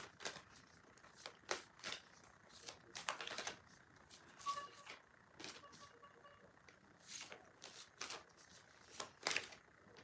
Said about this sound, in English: Give me a chance to shuffle.